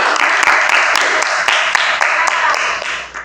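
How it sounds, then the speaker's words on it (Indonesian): Classroom applause for a teacher, Pak Rasti, sounding as a steady crowd of hand claps with a few sharper accented slaps, lasting a few seconds before fading slightly at the end. "Tepuk tangan Pak Rasti"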